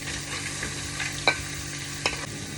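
Straw mushrooms stir-fried in a hot pan with no chili, giving a steady close sizzle with two brief scraping clinks of the utensil against the pan.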